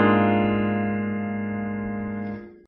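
The unusual, unstable opening chord of a bossa nova song rings out once on its own, a single sustained chord held steady for over two seconds before being cut off.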